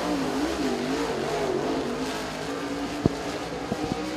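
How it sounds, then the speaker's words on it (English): A race car at Tazewell Speedway in Tennessee sets off on a qualifying lap at an Iron Man Championship event, its engine droning steadily at a distance with a few sharp knocks toward the end. "And David Payne now underway with lap number one."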